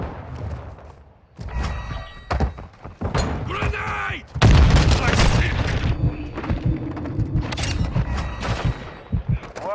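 Rapid gunfire from a Modern Warfare 2 video game match crackles in loud bursts and booming impacts, with grenade-like thumps, as voices shout over the chaotic firefight.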